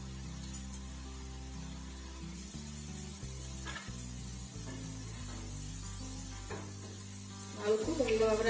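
Potatoes frying over a high flame for chilli potato, a steady soft sizzle running underneath louder tonal background music for the whole stretch, with a brief burst of clatter near the end.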